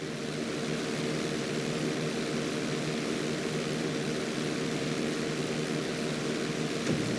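An airplane climbing during flight school in the video game GTA V: a steady, loud engine drone that holds evenly throughout, close and unbroken, with no talking.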